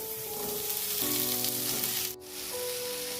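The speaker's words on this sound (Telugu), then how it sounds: "టమాటాని కలుపుకుంటూ సాఫ్ట్గా అయ్యేంత వరకు కూడా మగ్గించుకున్నామండి" Carrot and tomato sauté in a pan over a low flame, a close, steady hiss of sizzling with a brief dip near the end, no talking.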